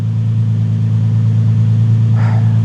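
Nissan 370Z engine idling during a test after an alternator and serpentine belt install, with a loud, steady low drone and a smooth, constant hum close by.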